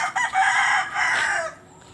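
Backyard chickens cluck and a rooster crows in a brief burst nearby, fading out quickly over quiet background noise.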